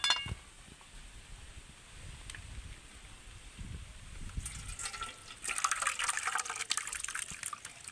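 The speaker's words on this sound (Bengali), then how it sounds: "সুতির কাপড় দিয়ে এরকমভাবে আমি ছানাটাকে ছেঁকে নেব" Chhana, curdled milk, being strained through cotton cloth into a bowl: soft liquid trickling and pouring, faint at first, then a louder gush of water running through near the end.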